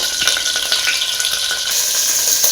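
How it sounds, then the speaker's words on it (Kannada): Green chillies, bay leaves, cloves and cardamom sizzle in hot oil, a loud, steady frying hiss with faint crackles throughout. "ನೋಡ್ಬೋದು ಚೆನ್ನಾಗಿ ಫ್ರೈ ಆಗ್ತಾ ಇದೆ."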